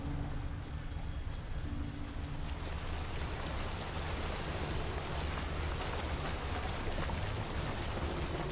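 Steady rain falling in The Witcher 3 game world, a dense, even hiss of drops on surfaces with a low rumbling bed beneath, continuous and unchanging throughout with no voices.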